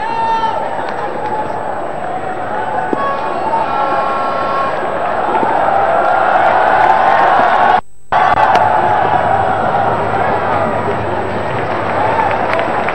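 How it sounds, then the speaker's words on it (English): Cricket stadium crowd at a Sri Lanka versus India one-day international, a large mass of voices chanting and roaring in a loud, sustained swell, with one brief dropout midway. "They'll be chanting his name. That's what they're chanting, the crowd."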